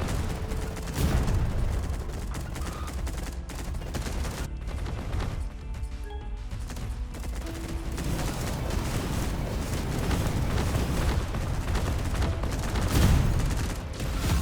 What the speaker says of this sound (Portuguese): Não sei de onde tá brotando esses tiros aqui.